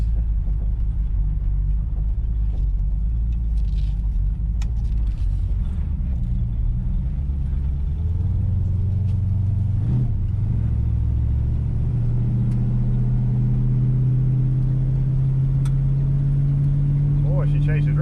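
A Dodge Coronet's small-block engine rumbles steadily from inside the car, its pitch dropping at a shift into second gear midway and then climbing again as it accelerates.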